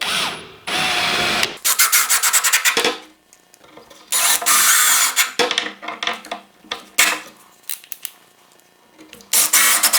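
A power driver sinks 2.5 inch screws into a wooden block on a workbench leg, loud buzzing bursts of motor whine and grinding, separated by short pauses and quieter handling clicks.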